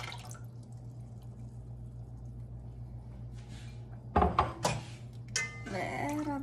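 Evaporated milk and coconut milk are poured for a Dominican arepa batter, a brief splashing, dripping burst arriving after a stretch of low kitchen hum, followed by softer liquid sounds close by.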